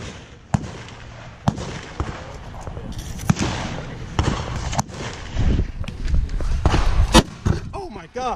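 AR-15 rifle shots at an outdoor shooting range crack out as sharp, loud reports about once a second, mixed with irregular thumps and bangs. People talk excitedly between and over the shots.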